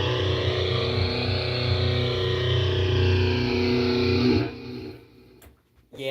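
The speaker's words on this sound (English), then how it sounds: "12-stage phaser, sounds like this" Electric guitar run through a chorus pedal and a 12-stage phaser, a thick sustained chord with sweeping, swirling tone that rings out loud for about four seconds before cutting off into near silence.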